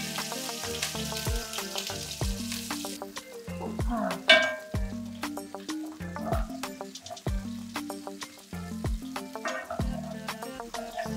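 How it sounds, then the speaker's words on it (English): Onion sautéing in oil in a pan for chow mein, giving a steady close sizzle with repeated stirring and scraping strokes throughout, no talk. "Just saute the onion until it's translucent and all the flavors have entered the oil."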